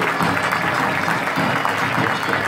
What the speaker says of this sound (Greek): Ένα θερμό χειροκρότημα για το Μεσονικό Ρόδο και τα γνωστά του.